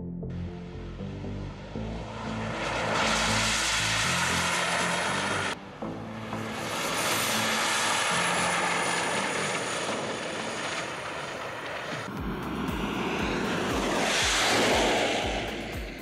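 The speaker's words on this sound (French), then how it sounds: "Il suffit d'écouter ses moteurs arrière hurler pour comprendre que cette voiture ne rigole pas." A jet-powered car's rear turbine engines roar loudly with a high, rushing whine that swells and fades in waves, no voices present.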